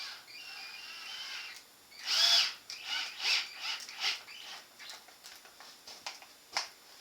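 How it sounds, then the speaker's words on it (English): A small power screwdriver drives a screw into a buttplate: a faint, thin motor whine rises in a few short, uneven bursts, with no talking. "Take my trusty little power screwdriver."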